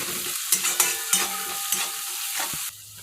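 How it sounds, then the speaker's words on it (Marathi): Turmeric is mixed into a cabbage dish in a hot pan, several quick spoon scrapes over a bright continuous sizzle that drops off abruptly at the end; close and clear, no speech. "हे बघा असं व्यवस्थित मिक्स करून घ्यायचं"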